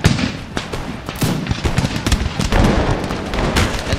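Massed musket volleys crackle continuously across a Total War battle, dense overlapping shots close and loud for the whole stretch, with no voices.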